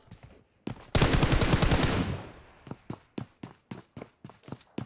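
Gunfire in the mobile game PUBG Mobile: a fast automatic burst lasting about a second, followed by a string of quieter, evenly spaced thuds like footsteps.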